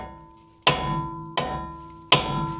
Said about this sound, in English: Now time to hammer these bad boys out.